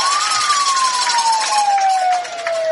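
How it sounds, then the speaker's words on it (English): A police siren wails at a high school football game, its single long tone sliding slowly downward and sounding loud and steady with crowd ambience underneath. "we got the police siren out there"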